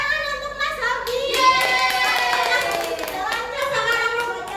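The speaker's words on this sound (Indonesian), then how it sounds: "Tepuk tangan untuk Mas Habib." Classroom applause from a group of students, a steady burst of many hands clapping for several seconds, close and lively, with some children's voices mixed in.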